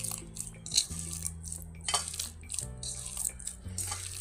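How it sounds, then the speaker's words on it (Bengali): Ground lentil batter for doi bora being mixed by hand in a bowl, soft wet slapping and squelching strokes with occasional clinks of a dish, close and quiet, no talking. "বাটার পরে ভালো করে এরকম করে মাখতে হবে।"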